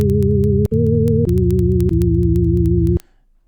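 Synthesized wave with added undertones gives a buzzy, low-heavy sustained tone that steps through a few pitches over three seconds before stopping.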